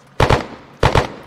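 Two quick bursts of gunfire during a cadet corps team skirmish, each with two sharp, loud, close shots, separated by a short pause.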